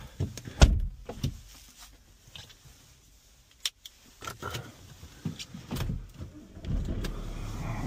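Clunks, door thuds and brief mechanical whirs sound as an Audi convertible is loaded onto a car transporter at a dealership, scattered and close against a quiet background that grows into a low engine rumble toward the end.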